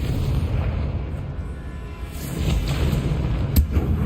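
Explosive Confringo and Bombarda spells in Hogwarts Legacy, with deep booming blasts rolling over a noisy rumble and one sharper crack near the end.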